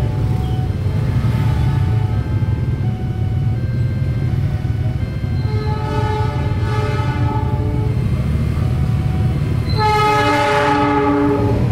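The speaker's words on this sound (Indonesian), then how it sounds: "Lokomotif CC206 13 73 CPN yang menarik kereta Pangyuk atau Pangrango di siang ini ke arah Sukabumi dari Bogor jam 3." CC206 diesel locomotive hauling the Pangrango passenger train from Bogor toward Sukabumi, a heavy rumbling roll of wheels and engine with repeated loud horn blasts near the end, close and steady.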